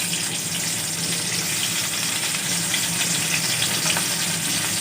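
Sugar sizzles and fries in a hot kadhai. A steady, continuous hiss holds at an even level throughout, with no talking.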